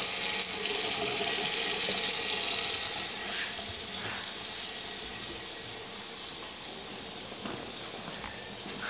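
Tap water running in a newly built North Texas house, a steady broadband wash that stays fairly loud and even throughout, with faint knocks and a brief rise at the very end.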